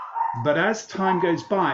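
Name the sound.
dogs barking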